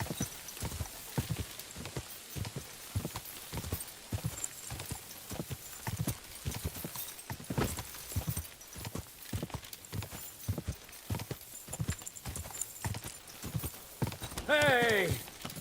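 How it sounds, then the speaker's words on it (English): A horse's hooves clip-clop in a steady, uneven rhythm, then a loud whinny rises near the end, all close by. "Your horse nearly trampled me."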